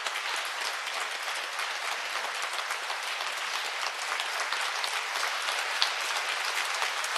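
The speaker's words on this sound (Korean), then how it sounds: "여러분 아낌없는 박수로 감사의 마음을 표현해 주세요." Concert audience giving sustained, generous applause to the performers of a song-cycle concert, a dense, even roar of many clapping hands that holds steady throughout without pause.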